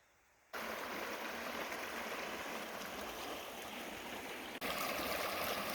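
Cold river stream on the Appalachian Trail rushing in a loud, steady, continuous flow close by, starting abruptly after a brief quiet moment, with no talking.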